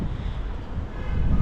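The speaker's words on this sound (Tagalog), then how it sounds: "Tapos malakas yung hangin." Strong wind buffets the microphone with a continuous low rumble and roar that swells slightly toward the end, with no voices.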